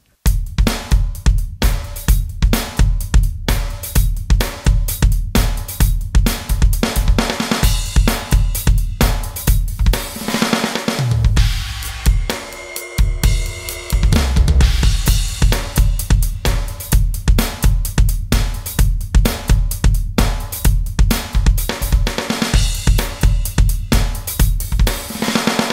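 A drum kit plays the verse groove of a rock song, a loud, close, driving beat of steady kick, snare and cymbal hits with a brief fill-like break partway through, no voice.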